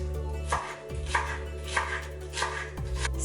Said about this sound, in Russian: Лук можно также нарезать мелко, но мне больше нравится полосочками.